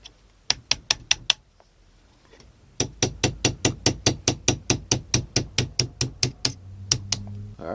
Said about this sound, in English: Gonna hammer out the pins.